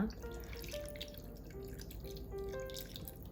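Water trickles and splashes into a pot for soy-braised chicken breast with quail eggs, a short, faint, close pour with no talking.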